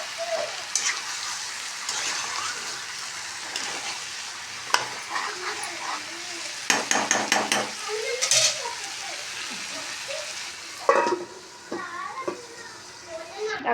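Chicken sizzles and fries in a pan with repeated scraping and stirring, a steady hiss punctuated by utensil knocks, while someone talks over it and a dog barks in the background.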